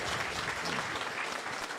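An audience at a football club luncheon applauds a pledged donation, a full and continuous burst of many hands clapping at once, with no talk over it.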